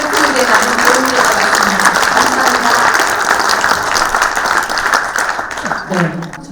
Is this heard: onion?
no